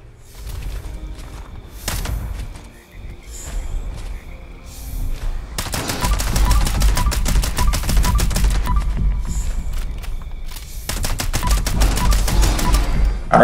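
Shotgun blasts and rapid gunfire in the video game Fallout 76, loud bursts of repeated shots in clusters separated by quieter stretches of game noise.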